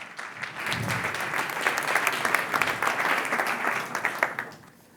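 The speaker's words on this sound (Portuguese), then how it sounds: "Um aplauso para eles." An audience at a corporate success-story presentation gives the guest speakers a full round of steady applause, many hands clapping together at a consistent level without speech.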